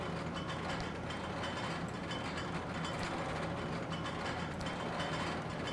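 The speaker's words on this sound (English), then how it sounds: "I love the aerodynamics lift hill sound." In RollerCoaster Tycoon, a roller coaster lift hill chain clanks and ratchets. The sound is a dense, steady mechanical rattle that runs unbroken throughout.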